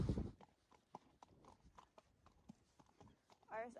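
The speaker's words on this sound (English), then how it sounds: "I take them all down the horse walk and around the car park" A horse's hooves clip-clop on hard ground as it is walked around a car park, a steady, fairly faint rhythm of footfalls under a person talking.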